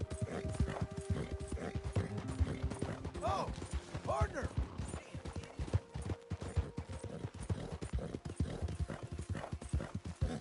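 In Red Dead Redemption 2, a horse's hooves clip-clop in a steady walking rhythm, with a couple of soft whinnies partway through and someone talking over it.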